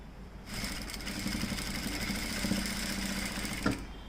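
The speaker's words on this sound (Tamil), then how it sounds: "இப்படி ஒரு மடிப்பு மடித்து இப்படி தைக்கணும்." Sewing machine stitching a folded seam on a checked blouse sleeve, a steady close mechanical whir running for several seconds with a brief louder knock near the end.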